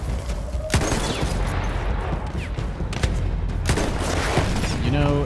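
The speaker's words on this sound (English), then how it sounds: "these dudes are shooting at me with this field gun" Battlefield 1 gameplay with a field gun and other weapons firing, sharp booming shots and scattered gunfire bursts over a dense battle din, with a voice speaking briefly partway through.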